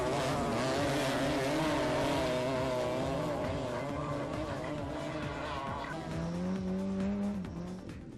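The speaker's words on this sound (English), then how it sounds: "The engines began to roar." Race cars and motorbikes on rough roads at a crowded motorsport event: loud, near engine roar with rising and falling revs and overlapping tones, continuous throughout with a slight fade at the end.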